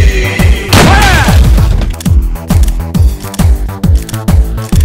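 A loud booming gunshot in a Tamil film scene rings out, followed by a string of heavy, rhythmic thuds and echoing impacts, close and forceful.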